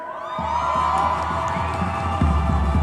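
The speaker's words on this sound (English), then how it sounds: "they're applauding the Islamic Republic of Iran" Crowd at a pro-Iran protest cheering and applauding, a dense sustained roar of voices and clapping that swells slightly toward the end, loud and continuous throughout.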